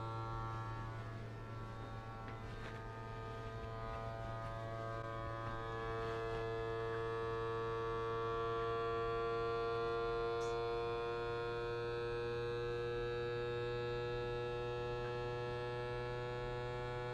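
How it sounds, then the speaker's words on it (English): A vacuum sealer draws air from a capped jar of freeze-dried chicken stock holding an oxygen absorber, giving a steady, close electric hum with a low drone and a faint whine that holds for the whole stretch without talk. "put a cap on it, and vacuum seal it"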